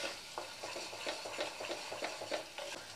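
Egg pakora curry masala with yogurt is stirred in a pan, giving a quiet ongoing sizzle broken by regular soft scraping strokes of a spoon, close and steady with no voices.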